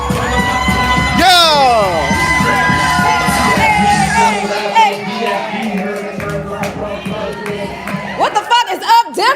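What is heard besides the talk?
audience clapping and cheering for a poet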